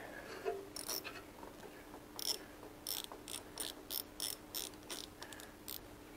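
Ratchet wrench clicking while removing a brake line bracket on a Harley-Davidson Pan America motorcycle, in short bursts of rapid ratcheting clicks, close and moderately quiet, with pauses between strokes and no talk.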